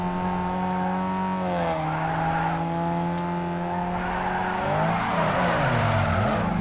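A car in a racing video game slides under the handbrake, giving a long loud tire squeal over a steady, droning engine note that shifts pitch as the skid goes on.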